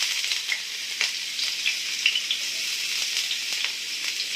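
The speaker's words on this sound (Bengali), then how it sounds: "ফ্রাই প্যানে তেল গরম করে নিয়েছি, দিয়ে দেবো কুচনো কিছু রসুন" Chopped garlic sizzles in hot oil in a frying pan with a constant soft hiss, while light stirring clicks and taps recur every second or so. No voices.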